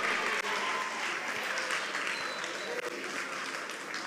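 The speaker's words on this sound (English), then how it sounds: "Oh, are you tired clapping?" Crowd applause at a junior high school science and maths quiz championship final ceremony, steady dense clapping filling the whole stretch with a few louder bursts.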